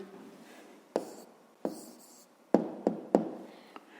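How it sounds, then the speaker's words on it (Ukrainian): A math answer is written by hand on paper, heard as a few close, scratchy pen strokes with sharp taps between quieter pauses. There is no talking. "Записуємо відповідь."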